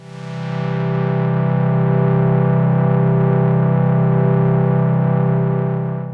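Behringer Model D analog synthesizer holding a major chord built from its oscillators, a loud, buzzy, sustained tone that swells in over the first second and stays steady, ringing alone with no talk.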